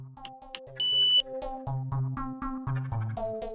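The receiver of an STI-3300 wireless doorbell extender in pairing mode beeps and chimes in a rapid run of short electronic tones, with one longer high beep early on. The tones are clear and close, with no talk.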